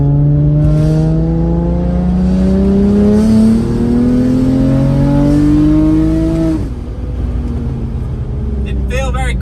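A tuned, boosted car engine accelerates hard through the gears, loud and close, its rising pitch climbing steadily before a sharp drop at a gear change and then building again.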